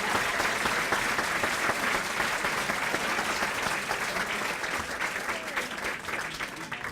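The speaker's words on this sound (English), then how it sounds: "Give them a round of applause." Sustained, dense applause from a large audience at a civic awards ceremony, loud and steady for the whole stretch and easing slightly toward the end, with no talk over it.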